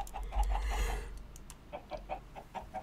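Chickens on a farm in modded Minecraft cluck in a quick run of short, evenly spaced clucks, pausing briefly and then clucking again, clear and close with no talking.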